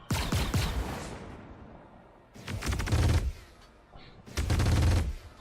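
Buccaneer ship guns in Star Citizen firing in three loud rapid bursts, each a dense rattle of shots separated by short pauses.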